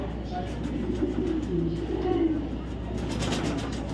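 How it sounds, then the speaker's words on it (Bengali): A female racing pigeon coos softly in low, rolling phrases over a steady background hum, fairly close. "একটা মাদি কবুতর, হ্যাঁ মাদি কবুতর"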